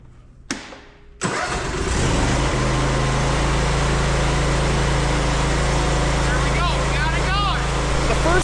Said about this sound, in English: Normally you spray just a little bit of this on the inlet of the engine. That does the trick to get it going.